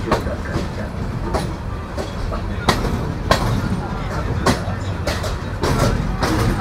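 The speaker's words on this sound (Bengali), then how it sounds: "আমাদের ট্রেন ছেড়ে দিল সান্তাহার জাংশন" A passenger train pulling out of Santahar Junction, heard from on board with a loud steady rumble and rhythmic clickety-clack of wheels over rail joints, with a voice talking over it.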